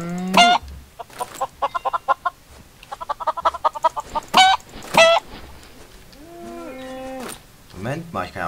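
Minecraft chickens cluck in quick repeated bursts, with lower lowing calls from cattle and sharp tonal game sounds mixed in, loud and close.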